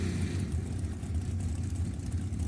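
Drag racing dragsters, one of them orange and one on a 2016 Racecraft chassis, idle with a throbbing, uneven low engine rumble, steady and fairly loud from start to finish.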